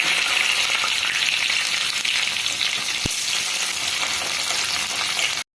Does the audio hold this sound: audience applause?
no